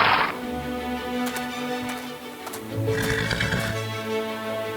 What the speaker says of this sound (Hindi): ये घोड़े बिल्कुल भी खास नहीं हैं।